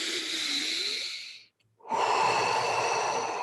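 Slow, deep guided breathing up close, one long airy exhale fading into a short silent gap, then a strong full inhale rushing in, with no voices.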